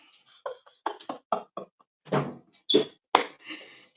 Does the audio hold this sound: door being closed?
yes